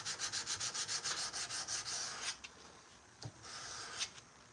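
Sandpaper rubs by hand on a soft wrought iron blade in a fast, even rhythm of close back-and-forth strokes, then slows into a few longer passes with scattered light knocks.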